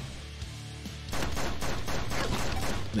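An AK rifle fires in the AK-xolotl video game: after a brief lull, a loud sustained burst of rapid automatic gunfire starts and continues to the end.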